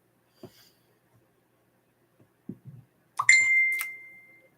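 A mobile phone chimes with a bright, ringing notification tone in a quiet indoor room during a lighthouse craft session, preceded by faint handling taps and a soft breath.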